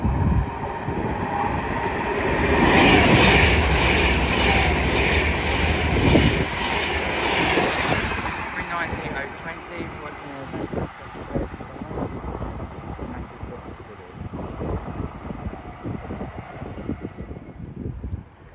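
A train passes through Watford Junction on the West Coast Main Line, its roar swelling to a peak in the first seconds, then fading into rhythmic wheel clatter and rumble as the carriages go by, with no speech.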